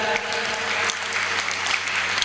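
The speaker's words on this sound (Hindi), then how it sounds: "एक बार जोरदार तालियों के साथ" An audience at a Hindu Shrimad Bhagavat Katha gathering gives a dense, loud round of applause that holds steady for its whole short length, with no talk.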